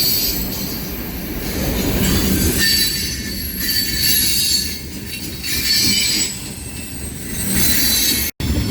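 A passing train's wheels squeal loudly and continuously against the rails on a curve, with rumbling and rattling cars close by.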